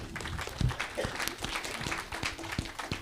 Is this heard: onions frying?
no